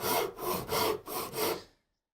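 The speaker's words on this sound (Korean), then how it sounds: "위쪽부터 톱질을 다시 이렇게 해서" A hand saw cuts wood for a mitered furniture joint in four steady back-and-forth rasping strokes, close and clear, then stops abruptly.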